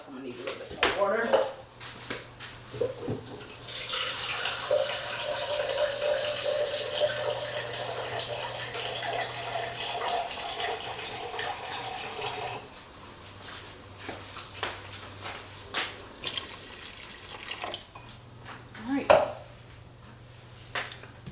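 A kitchen tap runs into a pot for about nine seconds, a bright steady splash, while chicken livers are being cooked. A voice talks before and after, amid clinks of cookware.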